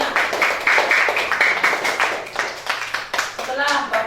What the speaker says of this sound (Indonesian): Ya, tepuk tangan untuk kelompok 2 semuanya.